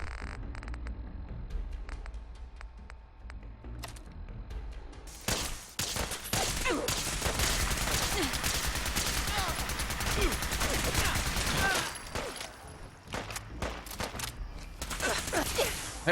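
Gunfire erupts in Fallout 4's Far Harbor, with loud, sustained volleys roaring for several seconds, a short lull, then more shots. A voice talks intermittently over the fighting.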